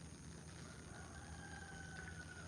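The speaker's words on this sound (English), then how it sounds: "I love hearing roosters crow." Rooster crowing faintly in the distance at a rural farm, a drawn-out call rising over steady background noise, no talk.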